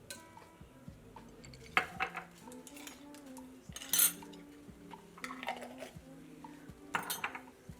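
A spoon stirs minced garlic in a cooking pot for collard greens, giving intermittent metallic clinks and scrapes against the pot, fairly quiet with no talking.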